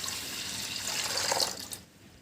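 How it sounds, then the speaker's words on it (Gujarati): Water pours in a brief steady stream, splashing into a metal pressure cooker, then stops. "કુકરમાં બાફવાનું નક્કી કર્યું છે તો હવે પહેલાં પાણી નાખી દઈએ એક કળશો પાણી નાખી દેવાનું"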